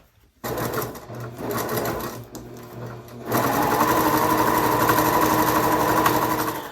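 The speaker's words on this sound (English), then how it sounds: "now I've got that all top stitched" A sewing machine top stitches a pocket, first a lighter intermittent whir, then a sudden jump into a louder, steady high-speed running hum that continues close and unbroken.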